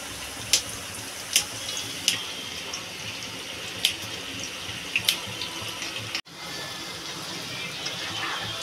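Liquid is poured into a cooking pot while making vegetable pulao, a steady close-range pouring and sizzling wash with occasional sharp clinks of utensils throughout.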